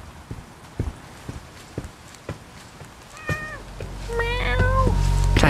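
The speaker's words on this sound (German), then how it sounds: "Ich kann nicht mit der Katze Jack interagieren." A cat in the video game The Medium gives a couple of clear meows near the end, following a run of footsteps and thumps with a rising background rumble.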